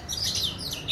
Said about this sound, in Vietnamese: Họa mi này đang hót cùng một chỗ này.